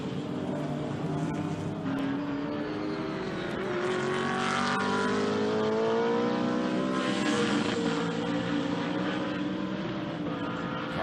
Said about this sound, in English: cars sound absolutely fantastic as they roar past the commentary booth